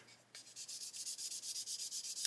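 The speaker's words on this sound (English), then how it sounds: "just gently sanding there" Close, rhythmic sanding strokes rasp back and forth across a plastic 1/12-scale model car body in a steady series of a dozen or so passes, with a short scrape at the end.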